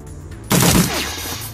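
Gunfire from the Shadowrun Dragonfall video game hits in a sudden loud burst after a quiet moment, then rings into a decaying echo, with no voices.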